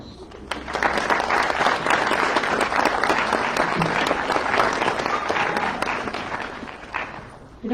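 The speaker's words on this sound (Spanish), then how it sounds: "Démosle una cálida bienvenida y un fuerte aplauso." Audience giving a warm welcoming applause to a speaker at an academic event on a culture of peace, steady sustained clapping from a large crowd lasting several seconds.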